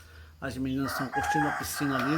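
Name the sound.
rooster crowing on a farm in São Roque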